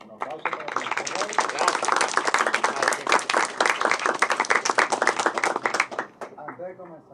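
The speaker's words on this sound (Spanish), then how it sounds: "Un aplauso para el profesor." An audience at a sociology lecture breaks into loud, sustained clapping for a professor, dense and even for several seconds before tapering off, with a brief voice near the end.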